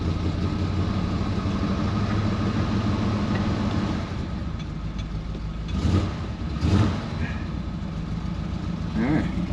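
A truck engine idles roughly right after a cold start on choke, in snow: a steady, loud, close rumbling drone with a few brief louder surges toward the end.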